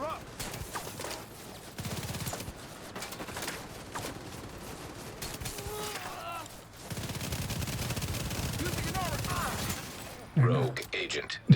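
Pistol shots loaded with shock rounds crack repeatedly in a video game firefight, mixed with other gunfire and game effects, while a voice talks over parts of the action.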